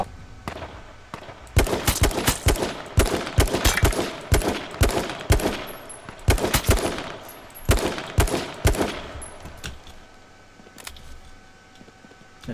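Rapid gunfire in the video game H1Z1, including a shot fired through a tree, crackles in a long run of loud, sharp reports and short bursts, sometimes clustered and sometimes spaced, fading toward the end.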